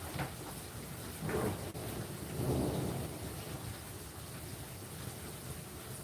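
Steady rain falls outdoors while low rolls of thunder rumble a few times, moderately distant, with no voices.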